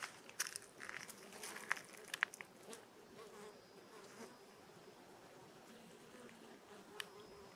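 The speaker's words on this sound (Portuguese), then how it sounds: "Vou deixar parado um pouquinho aqui só para vocês sentirem, ouvirem o som das abelhas trabalhando." Bees of several species buzz around flowering plants outdoors, a soft continuous hum with occasional louder passes close by, faint and without speech.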